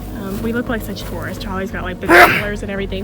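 A single sharp sneeze bursts out midway through ongoing conversation outdoors at the Chickamauga Battlefield, louder than the surrounding voices.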